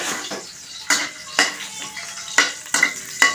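Garlic cooking in a pan for Filipino pakbet, with soft sizzling underneath and several sharp clinks of a utensil scraping and tapping the pan at irregular intervals.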